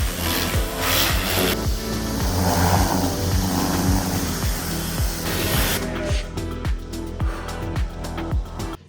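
A pressure-washer spray rinses a ceramic-coated 2021 Ford Mustang Mach 1, a loud hissing jet that shifts in tone as it sweeps across the car, then cuts to quieter dripping and spattering with rhythmic knocks.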